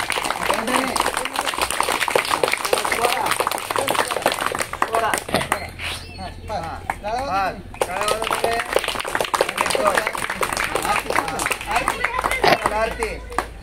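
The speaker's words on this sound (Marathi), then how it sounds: "हां, टाळ्या वाजवायला सगळ्यांनी." A group of students at a school athletics game claps for a classmate's jumps, bursts of applause mixed with lively chatter and calls, with rhythmic clapping recurring through the stretch.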